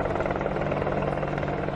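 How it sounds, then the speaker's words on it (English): An Indian Air Force AH-64E Apache attack helicopter flies past with a steady, loud rotor and engine drone, no pauses, heard alone. "The Indian Air Force's new AH-64E Apache attack helicopters."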